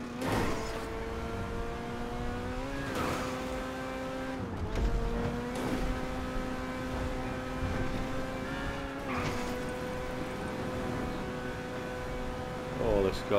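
A car driven in GTA 5 Online revs steadily with rising and falling engine pitch, punctuated by several tire squeals and skids, loud and continuous throughout.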